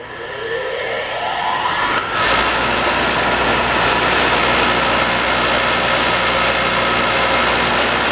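A scrap-saved single-phase motor switches on with a sharp click, spins up with a rising whine, then settles into a steady loud hum and drone that carries on alone.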